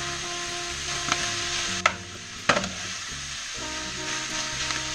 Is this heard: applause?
no